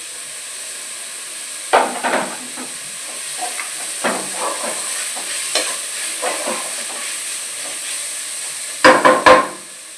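Mint and coriander leaves sautéing in a pan for a chicken lunch menu, a soft continuous hiss broken by several sharp stirring scrapes and clatters, clustered loudly near the end.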